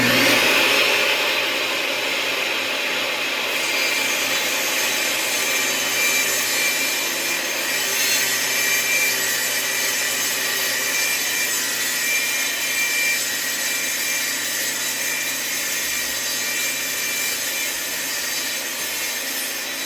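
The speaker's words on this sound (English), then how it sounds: "Then run the jig along the table saw fence to cut the taper." A table saw cuts a taper along a bass fretboard using a jig run against the fence, a loud sustained whining rip through wood with gritty friction, steady for the whole stretch.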